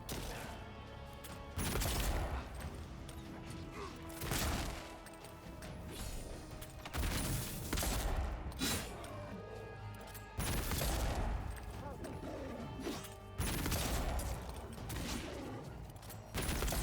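Pistol fire in the video game Avowed, bursts of loud, sharp shots in uneven clusters mixed with impact crashes and combat noise, spread across the whole stretch.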